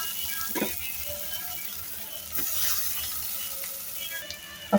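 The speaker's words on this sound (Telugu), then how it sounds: "ఇలా కాజు కిస్మిస్ వేయించి పక్కన పెట్టుకుందాం." Cashews and raisins frying in a pan for a Krishnashtami sweet of poha and jaggery, giving a soft steady sizzle with a few brief stirring scrapes and clinks, fairly quiet and close.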